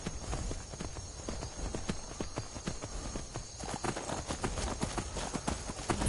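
Horse hooves in the Skyrim video game clip-clop at a steady walking rhythm through the whole stretch, moderately close against a constant background wash of game ambience.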